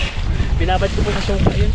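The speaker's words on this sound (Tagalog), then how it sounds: "Lakas ng hangin." Gusty wind roars across the microphone, a steady low rumble while a person talks over it.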